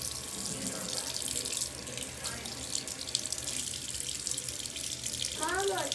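Tap water running steadily into a sink during handwashing, a continuous hiss and splash throughout, with a voice and soft talk faintly beneath it.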